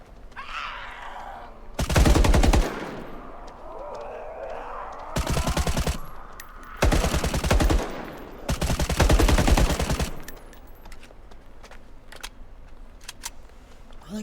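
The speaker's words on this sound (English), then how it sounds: "The gun seems a little more realistic this time around." Bursts of rapid automatic gunfire from The Day Before video game trailer come in several loud, close volleys of about one to two seconds each, separated by quieter stretches of background game sound.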